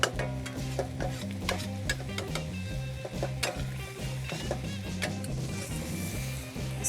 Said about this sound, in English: Stir that into the noodles.